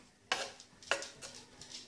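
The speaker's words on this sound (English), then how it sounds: "Now you mix it in with the batter." Peaches being stirred into cake batter in a bowl, with two distinct clinks of a utensil against the dish followed by softer, repeated mixing strokes, close and fairly quiet.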